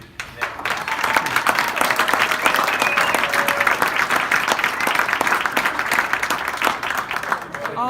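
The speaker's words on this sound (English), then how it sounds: "Once again, a round of applause." An audience at a high school winter signing day applauds in sustained, dense clapping that builds quickly and carries on steadily, with a few voices faintly underneath.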